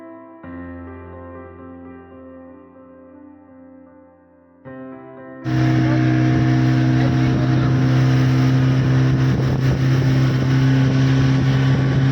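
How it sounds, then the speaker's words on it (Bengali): Speedboat on a lake at Maithon, starting with a low idling engine hum before the motor roars up into a loud, steady drone mixed with rushing wind and water. "এই জলের ওপর দিয়ে স্পিড বোর্ডে যেতে গিয়ে খুব সুন্দর লাগছিল"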